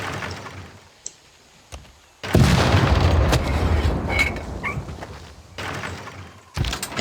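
Bombardment fire in a turn-based strategy video game sounds as heavy booming blasts with long rumbling tails, loud and layered, followed by a second shorter burst near the end after quieter clicks.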